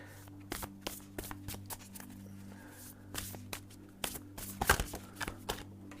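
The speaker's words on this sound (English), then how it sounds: "I cannot shuffle today. I'm throwing cards all over." Tarot cards are shuffled by hand, clumsily, with soft irregular riffles and slaps scattered across the stretch, fairly quiet and close, with no talk.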